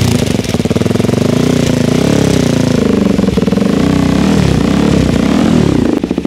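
A KTM Duke 390 gen 3 motorcycle with an Akrapovic exhaust and its dB killer fitted idles and revs up close, a loud, steady, throbbing engine note with small rises in pitch.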